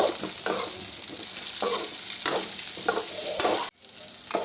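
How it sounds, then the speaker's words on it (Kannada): Okra fries in a pan with a loud, constant sizzle, broken by repeated scraping strokes of a spoon stirring it, before the hiss briefly drops away near the end. "ಇದು ಈಗ ಫ್ರೈ ಆಗೈತಿದು"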